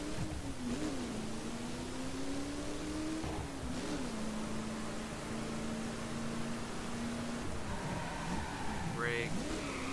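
A 680-brake-horsepower car engine in The Crew racing game, on the Pikes Peak course, drones steadily with its pitch rising and dipping, ending in a quick climbing rev, loud and continuous throughout.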